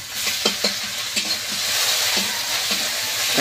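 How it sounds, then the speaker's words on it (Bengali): Dried chillies and onion frying in hot oil in a pan, a steady bright sizzle with a few soft stirring knocks early on, close and fairly loud, no voices. "তেলটা গরম হয়ে গিয়েছে, এবার শুকনো লঙ্কা আর পেঁয়াজ কচা দিয়ে দেবো।"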